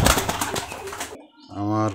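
Pigeons cooing around a white male pigeon, with a soft low coo rising at the end after a burst of mixed noise and a brief near-silent gap.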